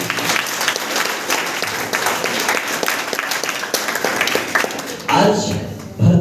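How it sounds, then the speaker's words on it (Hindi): An audience at a school honoring ceremony claps steadily to welcome its guests. The applause is dense and loud, and voices and a swell of crowd noise come through near the end. "आप सभी के द्वारा इन सभी का जोरदार तालियों से स्वागत करते हैं।"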